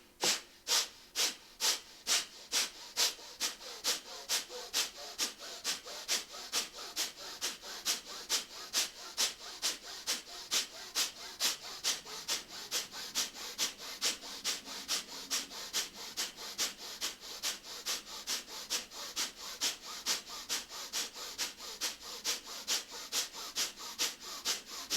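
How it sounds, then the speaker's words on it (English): Forceful yoga breath-of-fire exhales through the nose repeat in a fast, steady rhythm for the whole stretch, close and sharp, each puff a short sniff-like burst, with no talk. "So inhale and then begin with a forceful exhale."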